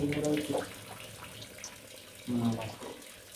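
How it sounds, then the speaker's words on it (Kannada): Water pours into a cooking pot for biryani with a splashing rush, swelling twice in close, fairly quiet bursts. "4 ಲೋಟ ನೀರು ಹಾಕಿದ್ದೀನಿ"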